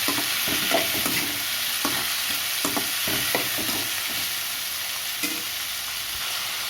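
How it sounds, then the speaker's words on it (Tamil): Chopped tomatoes with salt sautéing in a pan for pattani kulambu, a steady close sizzle with repeated scraping stirs of a spoon across the pan, no voices. "தக்காளி வதங்குறதுக்கு ஒரு அரை குறைஞ்சி உப்பு போட்டுக்கோங்க"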